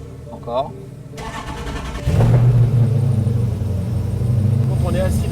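A motorcycle engine cranks and catches, settling into a steady, loud, close rumbling idle after a short start, with people talking over it before and during.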